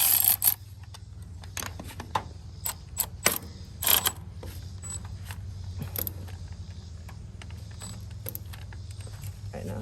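A ratchet tightens the starter bolt on a 1987 John Deere 850 tractor, giving short scattered clicks and metallic knocks over a low steady hum, close to the microphone.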